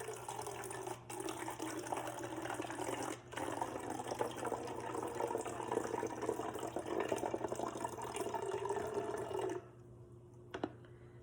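Vinegar and water poured into a bottle, a steady liquid stream that runs for several seconds and then stops, followed by a few faint handling knocks.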